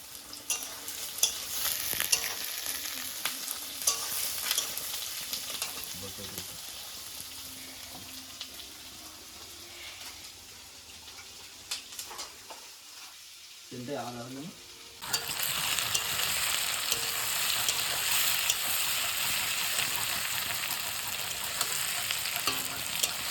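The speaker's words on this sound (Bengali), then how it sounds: "ভাজা প্রায় কমপ্লিটের দিকে আর একটু ভাজার পরে আমি গরম জলটা অ্যাড করব" Soft, steady sizzling of chicken frying in a pan, with occasional stirring scrapes; the frying grows louder and denser partway through.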